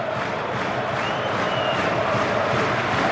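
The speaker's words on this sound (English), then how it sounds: "Crowd showing their appreciation." Crowd at a Euroleague-style basketball game in Moscow cheering and applauding as players leave the court, a dense, continuous roar of voices and clapping throughout.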